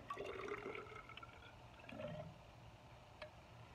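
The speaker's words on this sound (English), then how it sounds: "pour that into my graduated cylinder." Water poured from a 50 millilitre beaker into a graduated cylinder during a school biology lab, a faint, soft trickle near the start with a short second splash about two seconds later.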